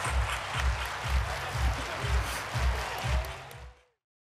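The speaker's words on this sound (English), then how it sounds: "Everybody, clap your hands" A crowd claps along at a steady beat over loud music at a televised show, the rhythmic hand claps sustained for a few seconds before everything cuts off abruptly.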